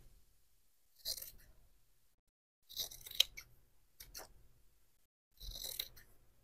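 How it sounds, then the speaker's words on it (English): Large Tim Holtz scissors cut apart sublimated hat patches in three separate bursts of close, crisp snipping and rustling, with quiet pauses between cuts. "I'm going to go ahead and cut these apart, and I am using my large Tim Holtz scissors for this"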